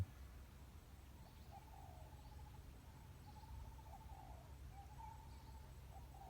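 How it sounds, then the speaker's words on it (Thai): Spotted dove cooing in forest near cornfields in hilly country, a faint repeating series of soft coos recurring every second or so over a low steady background hum, distant and with no talk. "ผมได้ยินเสียงนกเขามันขัน"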